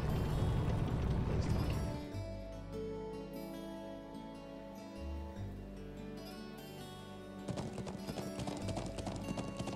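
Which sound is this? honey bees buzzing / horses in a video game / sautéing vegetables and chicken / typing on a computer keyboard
horses in a video game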